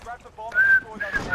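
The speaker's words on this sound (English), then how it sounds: "Why is he whistling?" A person whistles a short melodic tune over online game voice chat during a Kar98 trickshot match, the thin tones rising and sliding over muffled talk and chatter.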